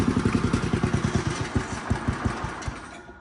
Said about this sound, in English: There's a little spot like around quarter throttle where it actually idles down below idle.